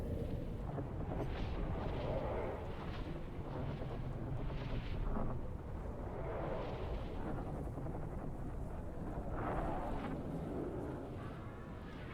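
Deep, booming blasts of spice explosions in a Dune video game roll in repeatedly over a constant heavy rumble, steady and loud throughout.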